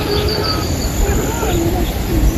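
Outdoors, thin high chirps from birds or insects repeat irregularly over a noisy rustling background, fairly close and moderately loud.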